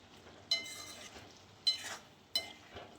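Papdi muthiya vegetable curry being stirred and mixed in a pan, with three distinct scraping, clinking strokes of a utensil against the pan at steady intervals over a quiet background.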